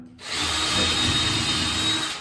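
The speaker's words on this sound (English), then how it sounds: "drill the hole first, and then use the countersink." A power drill whirs up after a brief pause and runs steadily at close range, boring a hole in a concrete basement, then begins to wind down.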